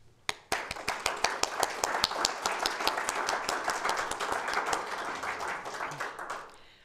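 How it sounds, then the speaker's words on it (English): An audience at the 2021 Ravenswood Australian Women's Art Prize applauds the artists: sharp, distinct handclaps build into steady, fairly close clapping that lasts several seconds before thinning out at the end. "let's join together and give these artists a round of applause"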